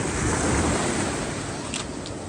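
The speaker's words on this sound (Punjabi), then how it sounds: "ਦੇਖੋ ਛੱਲ ਵੇਖੋ ਕਿੰਨੀ ਇੱਕ ਹਿਲਾ ਕੇ ਰੱਖਦੇ" Sea waves crash and wash up at Chola beach in Malvan, a loud, steady roaring surf mixed with wind buffeting the microphone, with no one speaking.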